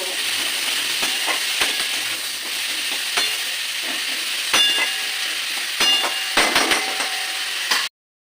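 Steady sizzle of potatoes frying in a pan fills the clip, broken by several sharp clinks and scrapes of a utensil stirring, loud and close, with no talking.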